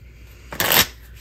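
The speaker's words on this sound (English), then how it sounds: "And I'll put the 7 of spades back in and shuffle." A deck of playing cards riffled once in a short, loud, crisp burst of flicking paper, close up and alone over a quiet room.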